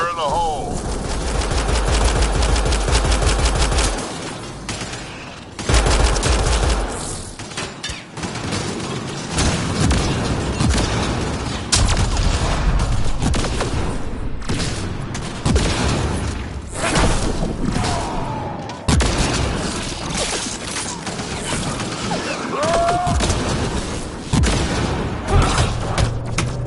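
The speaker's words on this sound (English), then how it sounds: "Fire in the hole!" Combat in Mass Effect Andromeda: a grenade blast and near-continuous loud gunfire, dense rapid shots with heavy booms and thuds throughout, and voices shouting at times.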